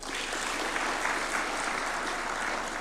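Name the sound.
applause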